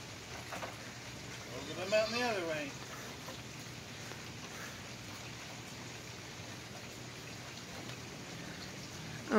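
Steady rain patters on a surface throughout, a constant wash of hiss, with a brief voice-like sound near the start.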